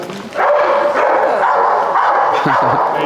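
Dog reactive to other dogs, barking at them amid a group of dogs at a training seminar in New Jersey; loud continuous commotion with short bark bursts near the end, voices mixed in.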